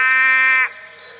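A long-footed frog from the Kimberley gives a single loud, sustained buzzing call of about two-thirds of a second, close and clear, then cuts off, leaving faint background hum.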